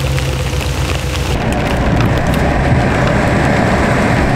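Heavy rain pours down outdoors on a wet, muddy day of tree felling, a dense, loud, continuous hiss that swells after the first second and then holds steady with no voices.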